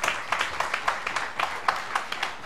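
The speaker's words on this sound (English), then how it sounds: "Please applaud us." Modest applause from an audience at a research conference opening ceremony, heard as a loose run of distinct claps at a fairly even pace, moderately loud and a little distant.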